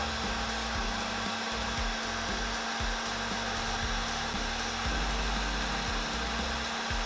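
A heat gun blows a continuous loud whooshing roar while shrinking heat shrink tubing over a soldered wire joint, steady throughout with faint background hum and no speech.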